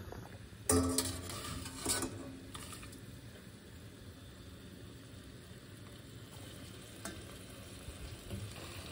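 Chunks of meat cooked with tomato, eggplant and onion are stirred in a pot, giving clattering scrapes in the first two seconds. A steady sizzle of frying continues beneath with occasional small knocks, close and fairly quiet.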